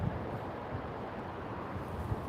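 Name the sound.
wind blowing into the microphone outdoors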